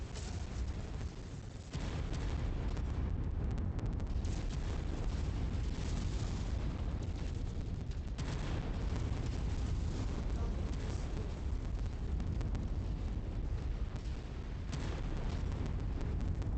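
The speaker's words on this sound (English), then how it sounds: "I hate these orbital guns almost as much as I hate artillery" Orbital gun strikes in the MechWarrior 5 video game, heard as a continuous roar of booming blasts and rumbling explosions with only brief lulls.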